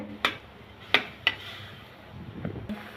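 Spatula stirring narkeli fish being sautéed in a cooking pot: a few sharp metallic clanks and scrapes spaced out over a low, steady background, with no talking.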